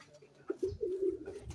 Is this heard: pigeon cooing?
yes